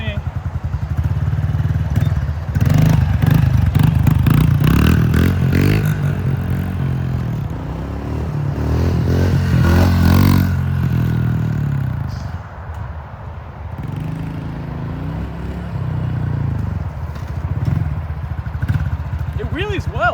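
A motorcycle on a new chain revs hard and loud through a power wheelie, its engine roaring and rising and falling up close, with people talking over it.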